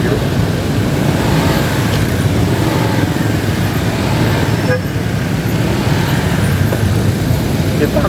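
Loud, continuous roadside traffic noise in a jam in Cibiru, Bandung, Indonesia, with engines rumbling close by, a dense mix of cars and motorbikes and an occasional faint horn.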